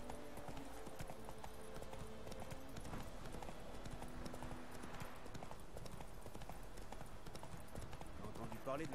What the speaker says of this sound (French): C'est galère à faire courir un cheval